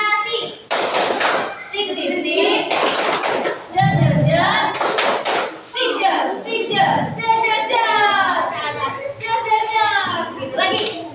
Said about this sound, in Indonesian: Coba tepuk apresiasi